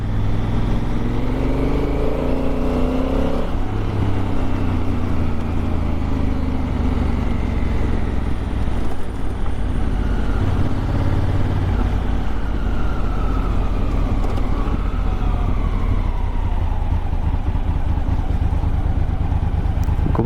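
A Honda Africa Twin motorcycle engine drones steadily while riding, a loud, continuous rumble with wind rush and subtle shifts in pitch as the bike changes speed, with no talking.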